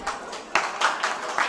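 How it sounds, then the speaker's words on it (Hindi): Applause from an audience at a Jain religious discourse gathering, a short burst of scattered claps heard at moderate distance, uneven and thin rather than a full roar. "तालियां तालियां तालियां"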